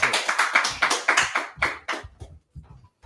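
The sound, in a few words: people clapping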